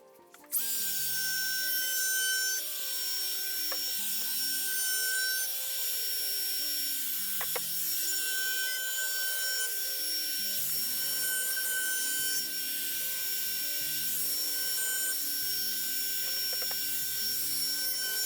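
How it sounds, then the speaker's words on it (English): A router fitted with an 1/8 inch roundover bit shapes the edges of a handcrafted wooden urn and its taped-down lid, producing a continuous high-pitched whine and cutting rasp. A few brief knocks punctuate it, and no voices are heard. "I router all the edges."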